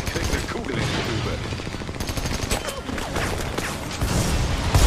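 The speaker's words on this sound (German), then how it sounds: "Oh, Explosion überall." Gunfire and explosions rage through a combat scene in the Army of Two: The Devil's Cartel video game, a dense continuous barrage of shots and blasts with a louder boom near the end.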